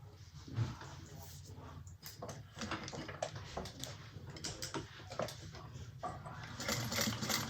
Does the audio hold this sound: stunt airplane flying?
no